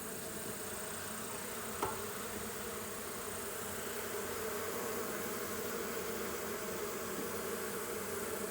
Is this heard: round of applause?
no